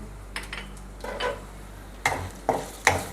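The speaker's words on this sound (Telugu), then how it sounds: "పప్పులు వేడే బ్రౌనిష్ అయ్యేంత వరకు వేయిద్దాం" Lentils (dal) frying with curry leaves in a pan until brownish, a spoon scraping and knocking the pan in several close stirring strokes over a soft sizzle, with sharper clinks toward the end.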